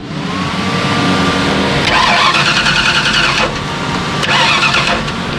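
A Ford 302 HO small-block engine in an S10 truck cranks and catches, its loud, steady mechanical roar holding close up with revving surges and no talking.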